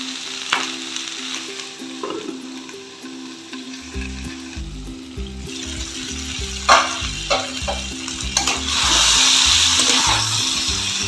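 Vegetables with pumpkin fry in a pan, a steady hiss of sizzling punctuated by scraping stirs and clacks of a utensil, with a rhythmic mechanical hum running underneath.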